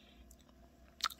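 Salt bread is bitten and chewed, giving a couple of crisp, close crunches near the end after quiet, soft mouth sounds.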